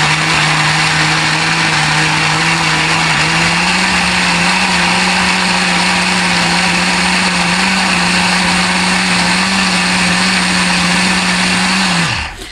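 Blender grinding tiger nuts on slow speed, a loud steady whirring motor drone that rises slightly in pitch partway through and runs continuously for about twelve seconds before cutting off abruptly.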